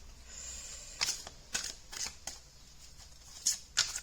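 A Murder of Crows special edition tarot deck being shuffled, with several short crisp riffling bursts and card slaps spaced across a few seconds, close and fairly quiet with no talk.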